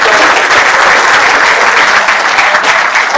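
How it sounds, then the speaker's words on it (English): A room of GST inspector trainees at their induction training valediction ceremony breaks into loud, sustained applause, dense overlapping clapping filling the whole stretch without pause. "Please give yourself a big round of applause."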